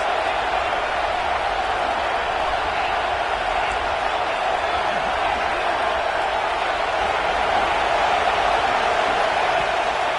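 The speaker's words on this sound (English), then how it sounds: "This crowd trying to make life miserable for this offense." A football stadium crowd roars in a sustained, dense wall of noise meant to rattle the opposing offense, steady and loud throughout with no clear breaks.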